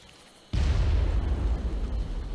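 A sudden loud explosion bursts in after a quiet moment, its deep rumble holding strong as it slowly settles: a bomb exploding on the ground in the video game Far Cry.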